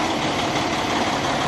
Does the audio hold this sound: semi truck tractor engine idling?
yes